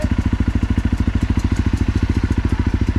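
Motorcycle engine idling after a spill in mud and snow, a loud, steady rapid chugging pulse close by with no talk over it.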